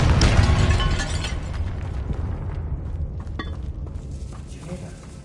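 The Confringo explosion spell in Hogwarts Legacy, cast at bone piles in a tomb, lands as a loud booming burst that decays into a lingering rumble with scattered small cracks and debris ticks.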